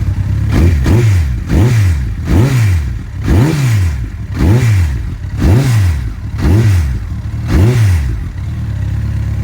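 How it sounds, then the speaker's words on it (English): A 2002 Honda CBR1100XX Super Blackbird fuel-injected motorcycle engine revs hard in a repeating cycle, about eight sharp throttle blips rising and falling in pitch, loud and close with a steady idle between. "let's fire this bad boy up"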